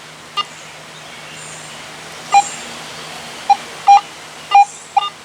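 Several short electronic beeps from a metal detector with iron audio switched on, reading 86, irregularly spaced over a low steady hum, some single chirps and a couple of longer tones.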